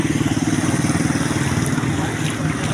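A tall motorized tricycle in Hagonoy, on streets where flooding is mentioned, runs with a loud, close, steady motorcycle-type engine drone that pulses rapidly throughout.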